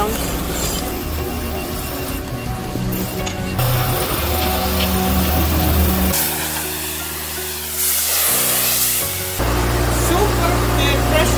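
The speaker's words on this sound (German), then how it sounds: "Super, die Pressure Wash, ne?" Pressure washer blasting a boat hull during a haul-out at the Rebak boatyard in Langkawi, Malaysia: a loud, continuous hissing spray that shifts in tone as the jet moves, with brief drops and resumptions and mechanical clatter.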